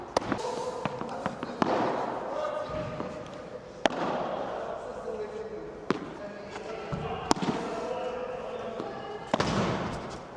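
Tennis balls are struck back and forth in a warm-up rally during practice, sharp isolated pops spaced about two seconds apart over a busy background with some voices.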